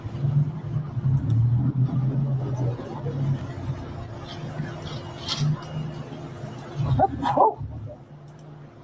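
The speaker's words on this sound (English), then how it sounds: "Heard a dog." A few short barks near the end from a dog at moderate distance, over a steady engine hum and some background noise.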